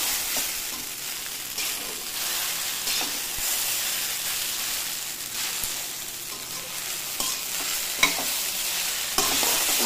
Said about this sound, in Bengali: টমেটোটা দিয়েছি, আমি নাড়াচাড়া করবো হলুদভাবে।